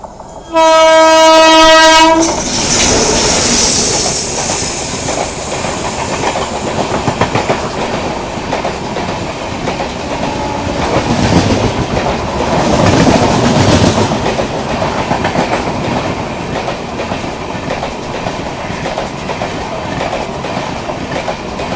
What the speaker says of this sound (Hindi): और हॉन्किंग की आवाज़ आ गई है भाई, क्रॉसिंग होने वाली है अभी शेषाद्री एक्सप्रेस की।